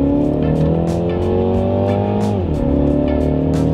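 Car accelerating up a highway on-ramp, a loud, steady engine drone from inside the cabin that rises in pitch, dips briefly at a gear shift, then climbs again.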